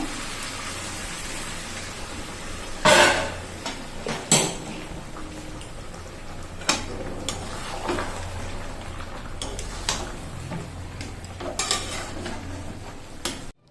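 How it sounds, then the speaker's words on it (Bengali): Hot water going into chicken curry in a pan, heard as a soft wet sizzle under scattered clinks of a utensil against the pan, with a couple of louder knocks and a continuous faint hiss. "গরম জল দিয়ে দিচ্ছি একটু তাহলে গ্রেভি গ্রেভি হবে"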